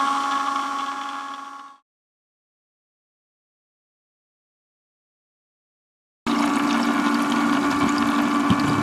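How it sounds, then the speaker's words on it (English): Solar-powered 350 GPH bilge pump moving water, a steady rushing, pumping flow that runs loud for almost two seconds, stops dead into silence, then starts again just as loud for the last few seconds. "that of course is the 350 GPH bilge pump."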